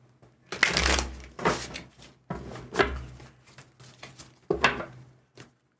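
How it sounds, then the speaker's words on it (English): Tarot cards are shuffled in several quick, crisp bursts of riffling and slapping, close up, with brief pauses between each round. "One more shuffle"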